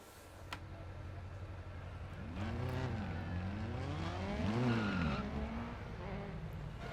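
An Opel rally car in Dirt Rally 2.0, engine revving up and down in swooping pitch sweeps with tyre skidding, fairly close and loud, over background game noise.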